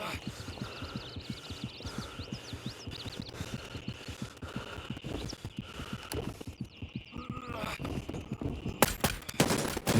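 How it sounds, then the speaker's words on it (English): Gunfire in the tactical shooter Gray Zone Warfare crackles as rapid rattling bursts of rifle shots, fairly distant and mixed with ambient game sounds, with a sharper, louder volley near the end. "In a flurry of bullets, Jen eliminated the last target."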